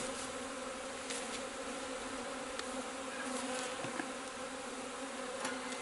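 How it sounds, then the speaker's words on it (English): Honeybees under a hive lid during a nuc installation give off a steady, dense buzzing drone that continues unbroken and fairly close, with occasional individual bees passing louder. "A few bees under the lid."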